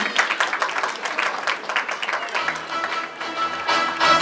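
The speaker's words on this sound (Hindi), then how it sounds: "जोरदार तालियां हो जाए।" Loud audience applause at the launch of a new film production house, dense clapping from a crowd filling the whole stretch, with some voices and cheering mixed in and a low musical hum starting partway through.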